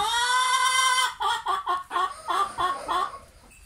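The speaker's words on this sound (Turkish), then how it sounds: "Çok acıklı ağlıyor benim tavuğum." A hen clucks and squawks, first a drawn-out wailing cry, then a series of short, close, rhythmic clucks that taper off.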